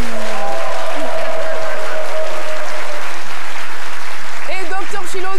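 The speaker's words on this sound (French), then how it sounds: "Merci d'applaudir Raïssa Diaby." An audience on a French-language midday television show applauds loudly for a guest, a strong burst of clapping that swells and fades under a lingering hum, with a few voices breaking in near the end.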